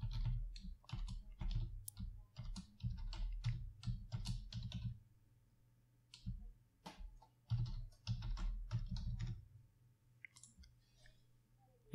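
Typing a test username on a computer keyboard, with bursts of fast clicking keystrokes that pause briefly before resuming, close and clear, with no talking.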